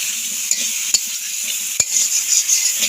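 Green chili paste stirred into soybean mince frying in a pan: a steady close sizzle broken by several sharp scrapes and knocks of the stirring utensil.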